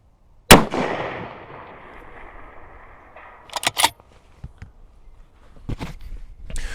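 A rifle fires one sharp, loud shot through a DiscoveryOpt XED 6-36x56 scope, the report ringing and decaying over a couple of seconds, followed by quieter clicks and handling noises.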